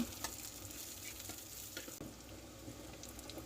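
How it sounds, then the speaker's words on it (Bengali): Onions and green chilies frying in a pan for a goat brain fry, a steady close sizzle with scattered stirring scrapes and clicks throughout, no voices. "পেঁয়াজগুলো দিয়ে দিলাম, কাঁচামরিচ দিয়ে দিলাম, পেঁয়াজ ভাজা হয়ে গেল।"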